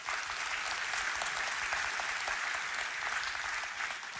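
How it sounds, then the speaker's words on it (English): Dense, steady applause from a large audience at a COMPUTEX technology keynote in Taiwan, sustained loud clapping with no pauses across the whole stretch. "a round of applause."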